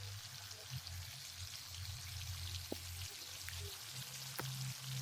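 Garlic sautéing in a pan for a pork nilaga with vegetables: a soft, steady sizzle and faint crackle running through the whole stretch, fairly quiet with a low hum beneath and no talking.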